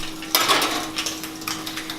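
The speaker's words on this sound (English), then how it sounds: "I'm going to whisk it again" Eggs being whisked for an omelette, quick clinking strokes of a utensil against a bowl coming in short rhythmic bursts, close and clear over a low steady hum.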